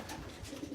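Pigeons cooing softly in a loft aviary in Florida, low murmuring coos repeating through a short stretch with airy background noise, no voices.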